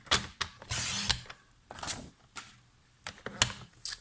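A paper trimmer cutting cardstock for a Stampin' Up! craft project, heard as several short, close swishing slices and clicks in an irregular rhythm, with no talking.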